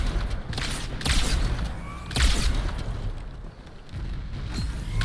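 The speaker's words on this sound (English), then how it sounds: "A lot of sniper shots." Sniper rifle shots in the Halo 2 video game ring out as several loud, booming cracks with rumbling tails, spaced about a second apart over continuous battle noise.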